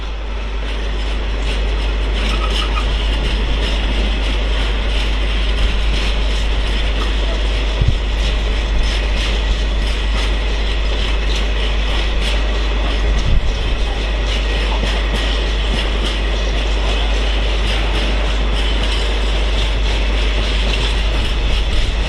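A Freightliner Class 66 freight train rolling past on a main line, a loud, continuous roar of wheels and wagons with faint rhythmic clacking and a steady low rumble throughout.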